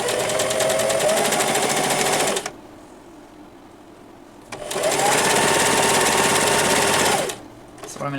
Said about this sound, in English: if you could hear me while the sewing machine was going